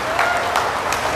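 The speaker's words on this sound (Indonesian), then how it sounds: "Berikan tepukan kepada bosku kita." Audience applause for Najib at a youth and diaspora rally on the final night of a Perikatan election campaign, a steady crowd clapping wash with a few louder swells, no clear talk over it.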